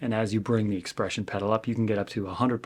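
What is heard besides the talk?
No everyday noises stand out.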